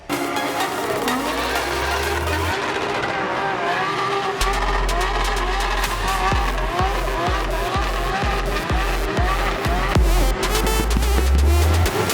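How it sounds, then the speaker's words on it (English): Drift cars skid around Baypark Stadium during a D1NZ Drift Series round, with loud sustained tire squeal layered over roaring, revving engines and a run of sharp rhythmic pulses, continuous and close. "Get the cam car and do some skids."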